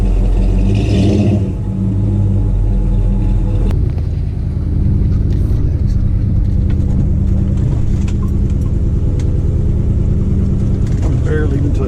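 Square body Suburban crawling off-road in four low, a steady low engine rumble and drivetrain whir close by throughout, with a brief rise early on; voices talk over it.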